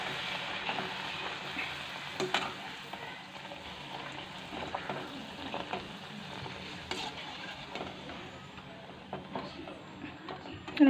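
Luchi, puffed Bengali flatbread, frying in hot oil for a Durga Puja meal, giving a steady broadband sizzle with stirring and crackle throughout, close and moderately loud, with occasional soft voice in the background.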